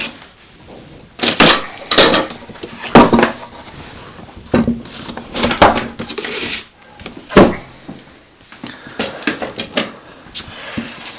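Clamps being taken off a wooden board glued up overnight for a carving project, heard as irregular close clanks, scrapes and knocks of metal and wood with quiet pauses between.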